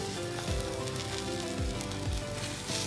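A folded cheese omelette sizzles gently in a pan over a low flame, a soft continuous crackle with a few faint bumps and scrapes, and no voices.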